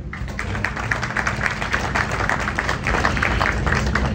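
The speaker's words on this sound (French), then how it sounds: "Je vous prie de les applaudir chaudement." A ceremonial audience for an institution's 45th anniversary applauds warmly, with dense, sustained clapping that stays fairly even and close across the whole stretch with no break.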